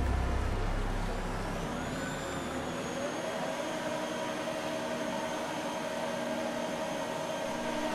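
Formula 1 cars launch from the grid at a race start in the F1 2019 video game. A dense, steady engine drone holds throughout, with a high whine that rises and then levels off as the cars pull away.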